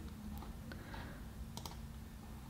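Faint computer mouse clicks and a key press at a desk, a few sparse, sharp ticks scattered over a low steady room hum.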